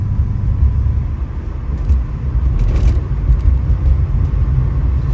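A 1971 Chevrolet Nova LS cruises at 70 mph, heard as a steady, loud low rumble of engine and road noise from inside the car, with no talking.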